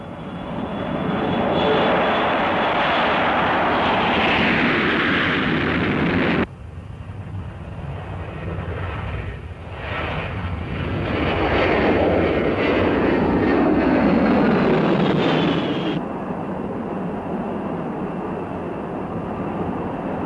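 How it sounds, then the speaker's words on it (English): Military bomber aircraft launching, a loud sustained jet engine roar that swells and shifts as the planes pass, with no talk. "and the aircraft launched"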